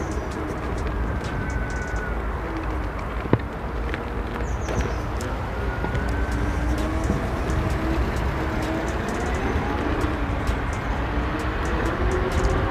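Kingsong S16 Pro electric unicycle accelerating hard, a steady broadband road rush with a faint rising motor whine running continuously for the whole stretch, one brief sharp knock partway through.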